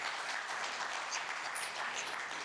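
Audience applause at a women's fitness and finance event, a soft, steady patter of clapping from a seated crowd, faint and distant throughout.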